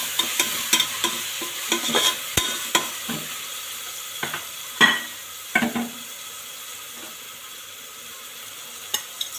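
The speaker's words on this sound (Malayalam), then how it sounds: "ഉലുവയിൽ ചേർത്ത് നന്നായി വഴറ്റിയെടുക്കുക" Beef curry masala with fenugreek seeds being sautéed in a pan, a low sizzle broken by repeated scraping strokes of a spoon against the pan, close and uneven in rhythm, with no talking.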